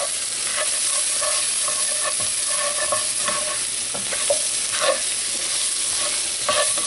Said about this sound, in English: Now I'm fixing to start mixing this.